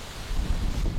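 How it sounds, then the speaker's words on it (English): Wind gusts through a garden, a broad, rushing, rumbling noise buffeting the microphone and swelling slightly toward the end, heard alone with no voices. "Getting windy a little bit."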